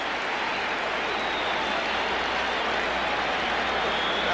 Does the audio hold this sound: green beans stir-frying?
no